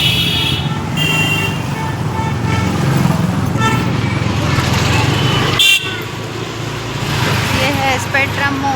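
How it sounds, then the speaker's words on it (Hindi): Dense night traffic on a busy city road beside a mall, with a steady roar of engines and repeated car and bus horns honking through it, loud and close, voices faintly mixed in. "देखो ट्रैफिक यहाँ पे कितना है।"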